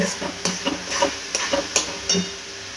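Fresh coriander leaves go into a sizzling eggplant bharta in a pan, giving a soft low sizzle broken by several sharp clinks and scrapes of a spoon stirring against the pan, close up, with no talk.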